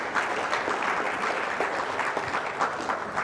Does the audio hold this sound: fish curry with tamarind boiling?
no